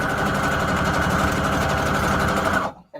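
A sewing machine runs a fast, even straight stitch through fabric tags with hot pink thread, a loud close mechanical whir that stops abruptly near the end.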